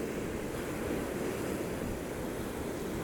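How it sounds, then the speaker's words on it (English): Ocean waves breaking on rocks below a hotel room near Sihanoukville Port, a continuous broad wash of surf and wind with no distinct individual crashes, steady and fairly close. "awoken by the waves breaking on the rocks below my hotel room"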